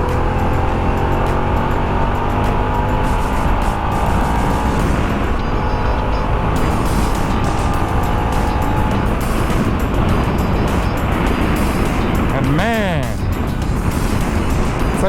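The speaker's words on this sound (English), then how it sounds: "You may have noticed that I'm riding a different bike today." A motorcycle on a road in a touristy coastal area, its engine droning steadily and loudly throughout with strong wind rush. A passing vehicle sweeps by near the end.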